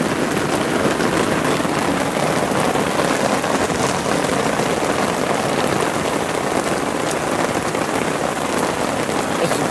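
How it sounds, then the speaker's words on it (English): Heavy rain pouring down at Rainbow Lake on the island, a dense, steady hiss of drops hammering surfaces, loud and unbroken for the whole stretch with no voices. "There's some serious rain."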